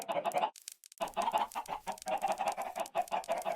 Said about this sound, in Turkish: Tavuk ordusu.